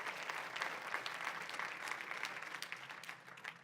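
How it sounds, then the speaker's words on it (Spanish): Congregation applauding during a church service, a steady dense round of clapping that carries on throughout at moderate distance, fading slightly toward the end. "Dele un aplauso al Rey de la Gloria conmigo"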